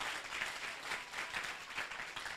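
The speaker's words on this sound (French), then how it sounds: "acclamez pour Jésus" A church congregation applauds for Jesus, a dense, steady round of clapping from many hands that carries on without a break, with no one speaking over it.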